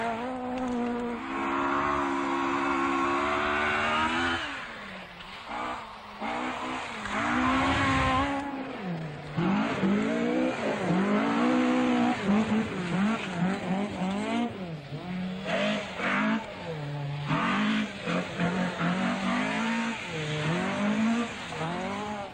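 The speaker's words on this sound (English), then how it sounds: "Clark tackles the first of 3 tarmac stages in Glasgow's Bellahouston Park" Rally cars from the 1978 RAC Rally and British Championship racing on a tarmac stage in Glasgow's Bellahouston Park, engines revving loudly up and down through gear changes, continuous and close throughout.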